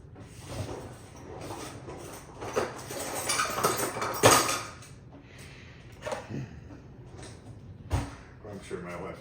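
Kitchen utensils scoop and scrape carbide rocks out of a carbide lamp, with close clinks, rattles and metallic knocks building to a sharp clatter, while a person talks underneath.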